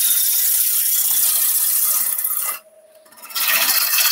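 Woodturning gouge making a drag cut on a lathe, a loud continuous close rasping shave that drops out briefly as the tool lifts, then resumes.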